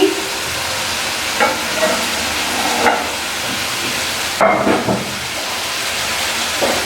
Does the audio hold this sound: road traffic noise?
no